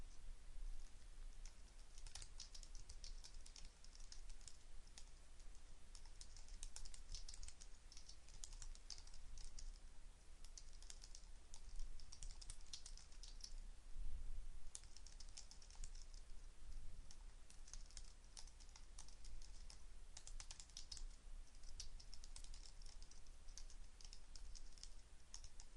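Code being typed on a computer keyboard during a programming lesson, producing steady, continuous key clatter that runs throughout at a moderate, close level, with no talking.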